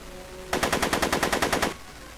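A rapid burst of about a dozen evenly spaced gunshots in a mafia shootout from a Back to the Future video game, loud and close, stopping abruptly, with no talking.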